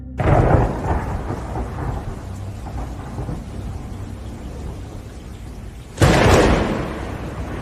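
Steady rain with rumbling thunder, then a sudden loud thunderclap that rolls on and fades.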